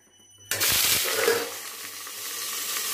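Food dropped into hot oil in a wok flares into a sudden loud sizzle that keeps crackling and hissing steadily, heard close up with no talk.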